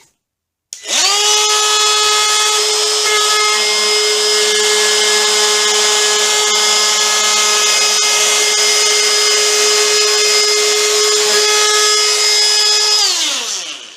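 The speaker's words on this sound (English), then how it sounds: "And it's just a 1/8 inch roundover bit, so it's not taking a big chunk out of the wood." A Ryobi P601 18V cordless trim router with a 1/8 inch roundover bit cutting a roundover into wood. It makes a loud, steady high-pitched whine for about twelve seconds and then winds down, with no talking.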